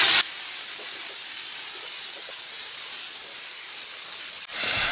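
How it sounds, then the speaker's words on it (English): A handheld steamer blasts moisture onto a car's painted body panel during auto detailing, giving a loud, continuous hiss that holds steady for several seconds, cuts off briefly near the end, then resumes. "you can take your steamer and you can get the moisture going and really work some of that off the panel."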